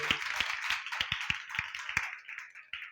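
A church congregation applauds, with a burst of distinct sharp claps at an irregular pace that thins out toward the end.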